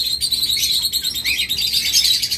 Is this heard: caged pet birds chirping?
yes